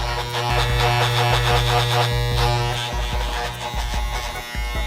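A cheap electric hair clipper buzzing continuously and loudly at close range during a home haircut, a harsh rattling drone that stays steady throughout with no speech.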